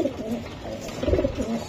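Giribaj racing pigeons of a first-class bloodline cooing close by, a steady run of low, rolling coos with a few louder throaty swells, heard alone.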